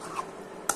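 A spoon stirs a potato, gourd and chickpea fry in a pan, giving two faint, brief scraping clinks about half a second apart against a quiet kitchen background.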